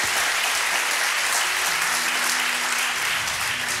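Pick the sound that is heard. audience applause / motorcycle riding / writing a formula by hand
audience applause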